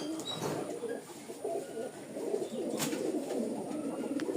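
Pigeons cooing in a loft of hand-flying pigeons, soft repeated low coos from several birds nearby, with faint chirps and light background noise throughout.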